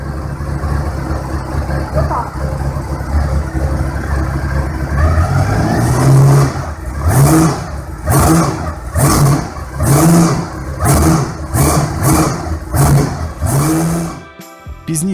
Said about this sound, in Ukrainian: в інтернеті з'явилося відео з двигуном Ducati Еленор, який повністю працює